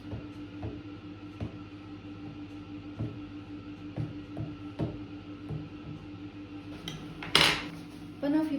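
Metal fork clinking against a plate while slicing through a banoffee pie of banana and cream, with a run of small taps at regular intervals and a brighter scrape near the end.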